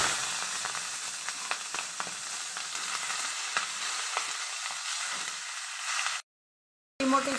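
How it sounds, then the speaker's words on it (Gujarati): Carrot and cabbage hit a hot tempering of mustard seeds, cumin and asafoetida for a Gujarati sambharo, giving a loud, close, steady sizzle with crackles. The sizzle drops out briefly near the end, then returns. "હિંગ નાખી ને ગાજર કોબી વઘાર દેશું"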